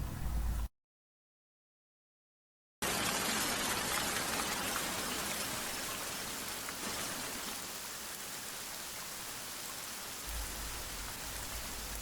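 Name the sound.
rain sound effect in audio story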